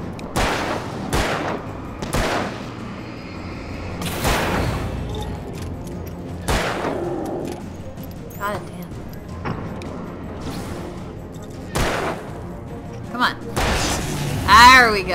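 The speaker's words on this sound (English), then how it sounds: "I panic so much I just shoot at things." Repeated gunshots from the Alan Wake video game ring out in separate sharp bursts over about fifteen seconds, each a loud crack with a short tail, interspersed with in-game rumble and effects.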